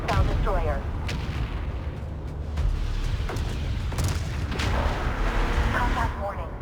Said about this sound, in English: Firing on hostile destroyer.